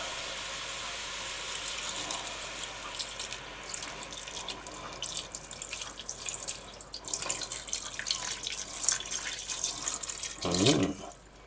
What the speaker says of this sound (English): Add 2 cups of water to the pot.